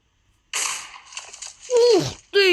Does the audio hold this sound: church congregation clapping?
no